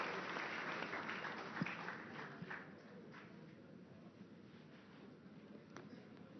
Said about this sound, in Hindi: तालियों के साथ इनका स्वागत कीजिए